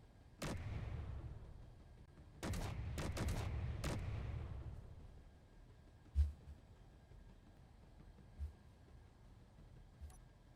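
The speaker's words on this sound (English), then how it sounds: "I think my turrets are sometimes hitting themselves" Turret gunfire from the space-building game Space Engineers comes in clustered rapid bursts over the first few seconds, then gives way to a few isolated dull thumps, all heard at a distance.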